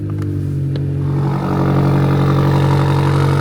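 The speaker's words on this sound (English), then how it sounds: "That's engine on." The hybrid engine of a BMW XM fires up and settles into a loud, steady, deep idle with a low rumbling drone, heard close with faint clicks at the start.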